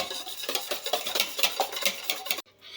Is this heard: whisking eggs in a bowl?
yes